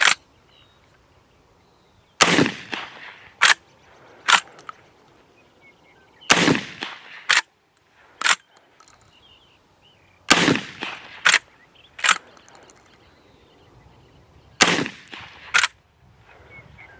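A Century Arms PW87 lever-action shotgun fires and cycles: four sharp, loud shots spaced a few seconds apart, each followed by quick clacks of the lever being thrown open and closed.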